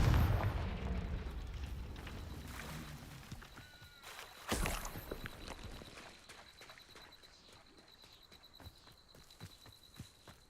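A Confringo fire spell in Hogwarts Legacy: a loud burst at the start and a second sharp blast a few seconds later, each fading into rumbling debris and faint footsteps.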